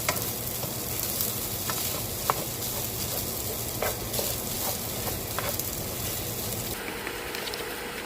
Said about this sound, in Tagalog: At paghalu-haluin lang.